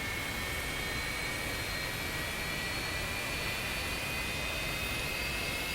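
F-86F Sabre jet engine spooling up during start-up in the DCS flight simulator, a steady loud broadband roar with a rising high whine, continuous throughout.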